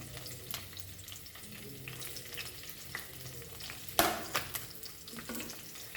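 Garlic and chilies fry in oil with a steady close sizzle, broken by scattered stirring scrapes and a sharper clatter about two-thirds through.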